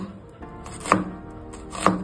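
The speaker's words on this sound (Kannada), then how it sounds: "ನೋಡಿ, ಈ ತರ ಚಿಕ್ಕ ಚಿಕ್ಕ ತುಂಡು ಮಾಡಬೇಕು." An onion being cut into small pieces with a knife, giving two distinct chops about a second apart on a board, close and clear, with no talking.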